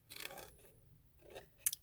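Scissors fussy cut a shimmery cardstock sentiment, a few faint close snips with quiet gaps between them and a small sharp click near the end.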